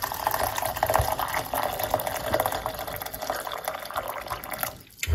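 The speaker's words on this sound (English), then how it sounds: "So we're going to put in hot water." Hot water is poured into a cup as a steady, close splashing stream for about five seconds, then cuts off abruptly.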